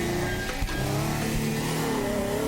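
A car in the video game Teardown drives and revs, its engine droning loudly and continuously with shifting pitch and a brief thump partway through, close and steady with no talk.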